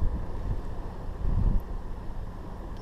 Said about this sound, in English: But it really isn't pleasant today with the wind.